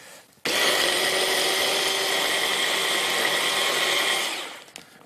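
A kitchen blender whizzes an olive oil paste in a single loud, steady whir that starts abruptly, holds for about four seconds, then winds down, close up with no voices.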